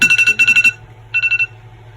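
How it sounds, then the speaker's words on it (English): An electronic phone alarm beeps in rapid bursts, two quick groups of pulsing tones, then a shorter group after a brief pause, loud and close. "That was just my alarm."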